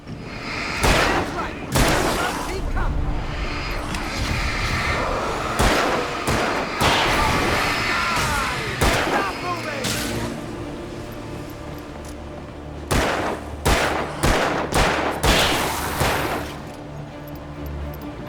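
Gunfire in the Alan Wake video game comes as loud, sharp shots in irregular clusters, some single and some in quick succession, with gaps between them and speech in the background.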